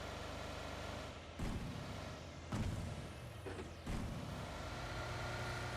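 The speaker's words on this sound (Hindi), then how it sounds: "तो मेरे को राइट साइड से गाड़ी की साउंड आती है" In PUBG Mobile on the Erangel map, a vehicle sounds from the right beneath a low engine drone. Three loud, sharp bangs like gunfire punctuate it, and no one speaks.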